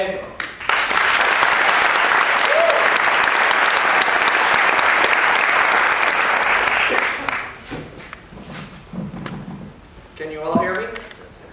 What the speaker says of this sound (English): Let's get a big round of applause for Andrew Basile.